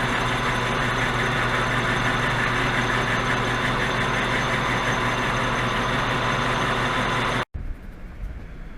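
A milling machine takes a light 12.5 thou cut with a carbide cutter on a bearing support, a steady loud mechanical drone that stops abruptly near the end, leaving a quieter hum.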